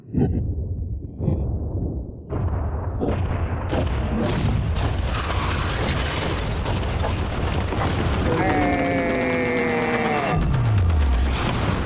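A yacht is blown up with explosives, setting off a sustained, loud roaring blast with rumbling debris and mechanical crashing that fills the scene, with voices heard at the start.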